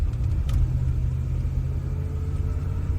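A 1978 Lincoln Mark V Diamond Jubilee with a dual exhaust drives along a road, its engine giving a steady, loud, close low rumble with no talk over it.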